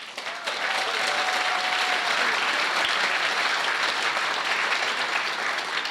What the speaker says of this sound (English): and a round of applause for that.